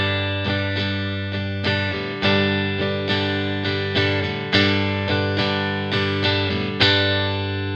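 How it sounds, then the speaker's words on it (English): Acoustic guitar strummed steadily in the down-down-up-down-up pattern, bright chords ringing with crisp, regular attacks, close and full with no voices. "The strum pattern that we're going to learn is commonly called the ultimate strum pattern"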